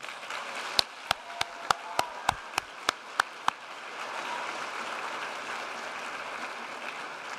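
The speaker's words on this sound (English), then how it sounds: "give them a big round of applause" At a MEDEX Northwest Spokane Class 26 graduation ceremony, about ten sharp, evenly spaced claps ring out close and distinct, then give way to a soft, diffuse crowd noise.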